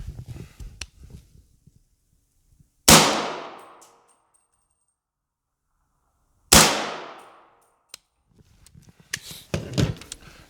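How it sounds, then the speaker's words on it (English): Two suppressed rifle shots fired a few seconds apart, the first a standard-velocity supersonic round and the second a subsonic round, each a sharp crack with a quick decaying tail, amid faint background clatter. "the first round is going to be standard velocity, supersonic, whatever you want to say. And you can hear that"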